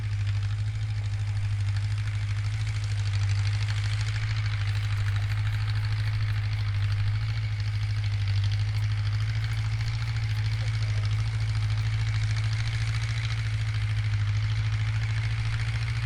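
Engine of a bell pepper harvesting machine running steadily, a loud low droning hum with a constant throb and mechanical buzz, unchanging throughout with no voices.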